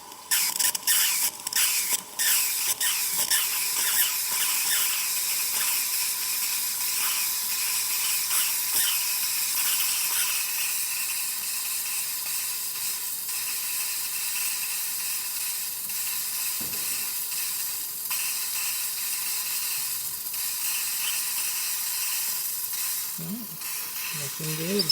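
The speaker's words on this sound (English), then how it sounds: "Purge water first, and steam will follow." Steady loud hiss of steam from a Rancilio Silvia espresso machine steam wand, preceded by a few sputtering bursts as water purges, continuous and close for the whole stretch.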